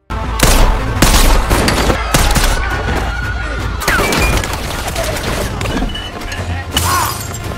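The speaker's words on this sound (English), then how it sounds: "leading to a fierce gunfight and brawl" A film gunfight and brawl with a fierce burst of rapid gunfire, crashing impacts and shattering, loud and chaotic, with repeated sharp bangs and breaking sounds throughout.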